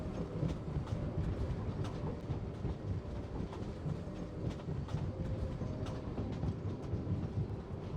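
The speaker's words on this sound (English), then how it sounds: "They built a working train system." A train runs through a snowy northern region in the Genshin Impact video game, a steady loud rumble with faint rhythmic clatter throughout and no voices.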